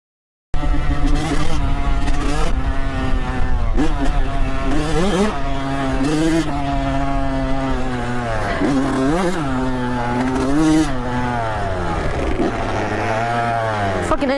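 Several dirt bikes, a KX100, CR125 and YZ125, ride a rutted trail with loud, continuous two-stroke engine drone that rises and falls through revs and gear changes, close and steady throughout.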